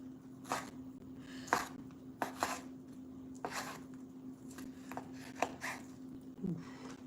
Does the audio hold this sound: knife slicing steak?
yes